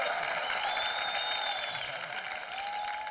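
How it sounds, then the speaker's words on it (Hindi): A comedy-show studio audience applauds for arriving film-star guests, a steady dense clapping wash heard over a faint tonal background. "जोरदार तालियां"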